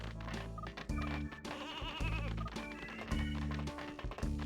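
Sheep bleat in a sheep-herding video game over busy game music, several short bleats repeating in a bouncy rhythm.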